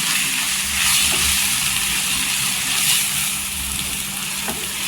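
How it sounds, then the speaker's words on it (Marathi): Turmeric, coriander powder and roasted gram flour sautéing in oil for a dhaba-style egg curry, a steady close hiss of frying with faint occasional stir scrapes, loud and continuous. "हे आहे ना सगळं तेलावर छान असं परतून घ्यायचं"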